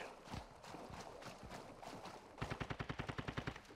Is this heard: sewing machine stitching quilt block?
no